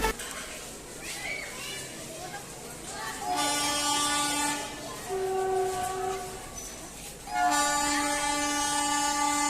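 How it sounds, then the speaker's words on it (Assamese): Trains at a railway station in Assam, with loud sustained horn blasts sounding in several long bursts over a steady rumble of rail traffic and ambient station noise. "চাওক ইয়াত 3-4খন ট্ৰেইন আছে"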